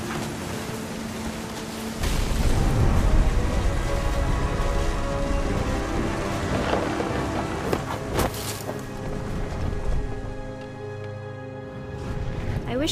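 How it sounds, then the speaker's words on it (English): Steady rain falls in a storm in the game What Remains of Edith Finch, a broad wash of hiss with a deep rumble swelling early on, heard fairly close and without talking. "The thunder sounded much too close and full of angry power."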